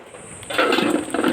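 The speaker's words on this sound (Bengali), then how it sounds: "আমি জল ঝরিয়ে নিলাম।" Water from boiled peas is poured off in a home kitchen, starting as a faint trickle and turning into a sudden, close, steady gush that keeps running.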